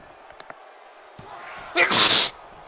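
One loud, close sneeze bursts out during a quiet livestream, preceded by faint clicks and low background noise.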